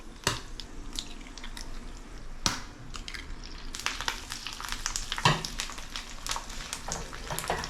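Two eggs fry in a pan with butter, jarred pesto and chili crisp, giving a loud, crackling, close sizzle with sharp pops and spatters that grows busier partway through, with no voices.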